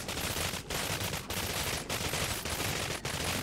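A PPSh submachine gun fires in long continuous bursts in the first-person shooter Cryostasis: Sleep of Reason, a dense rapid rattle close and loud, broken by a few brief pauses.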